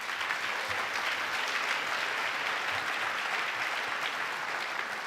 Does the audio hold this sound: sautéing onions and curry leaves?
no